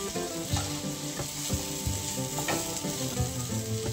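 Okra cooking with masala in a pan sizzles loudly and steadily, with repeated scraping and clattering as a spoon stirs it. There is no talking.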